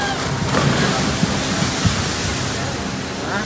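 Rushing, splashing water from a log flume ride at Universal's Islands of Adventure theme park, a steady broad wash of water noise that stays loud and continuous throughout, with faint crowd murmur underneath.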